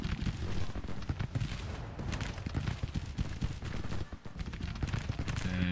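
Cannon and gunfire from a Civil War battle in a strategy game, with Rockbridge Artillery firing amid a dense, continuous barrage of overlapping booms and crackling shots that stays loud throughout.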